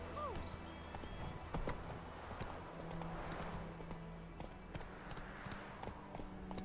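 Roach the horse's hooves clip-clop steadily in The Witcher 3, a light rhythmic patter that runs beneath game music and voices talking.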